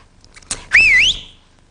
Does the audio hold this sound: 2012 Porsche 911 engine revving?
no